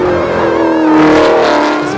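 A one-of-one Chevrolet Camaro ZL1 with a 6.2-litre V8 tuned to 770 horsepower revs hard at Rockingham, a loud, close, rising snarl that swells and holds for a couple of seconds.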